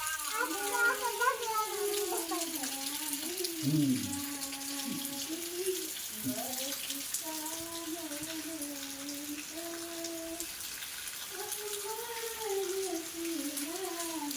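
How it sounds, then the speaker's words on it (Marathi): Steady hiss of rain falling outside, continuous and moderately loud, with someone talking over it throughout. "बाहेर पाऊस चालूच आहे"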